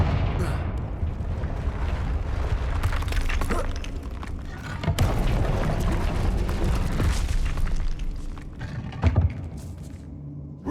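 The Confringo blasting spell going off in the Hogwarts Legacy video game, with heavy booming explosions and crackling debris. Several blasts strike in quick succession, and loud impacts punctuate a dense rumble.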